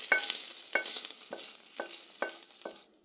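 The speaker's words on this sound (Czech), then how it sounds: "Celkově ho restuju přibližně 5 minut." Meat for stroganoff sizzles and spits in a hot frying pan while a utensil scrapes and stirs it in several sharp strokes; no talking.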